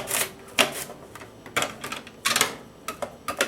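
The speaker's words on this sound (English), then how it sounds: "I'm using this slicer and it's on 3 millimeters" Potatoes are sliced on a slicer set to 3 millimeters, making a series of sharp, irregular clacks and rasps close by with short pauses between strokes.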